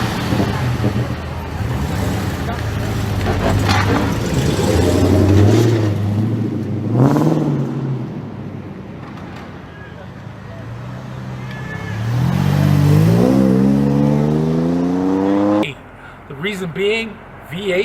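Dodge Challenger SRT with a naturally aspirated 470-horsepower V8 revving in loud, rising surges, then easing back, with a second sweeping climb near the end; talking is heard over the engine.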